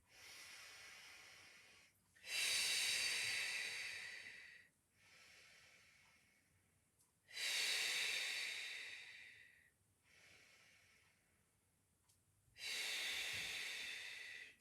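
Three long, loud hissing breaths out through the mouth during a Pilates exercise, each followed by a softer inhale, close to the microphone and steady in rhythm, with no talking.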